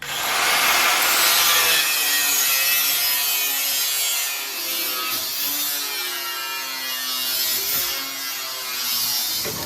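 Sheet metal being cut away on a Ford bumpside crew cab truck's cab corner, a loud continuous rasping, sawing grind that runs steadily without pause, close up and alone.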